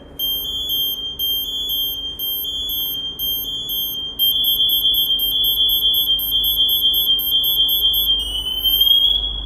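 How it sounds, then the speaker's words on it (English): A shrill electronic PASS alarm on an MSA G1 breathing apparatus sounds in pulsing beeps that turn into a continuous, louder tone, then rise in pitch at the end. "wait for your pass to go into full activation. This will produce an ascending tone."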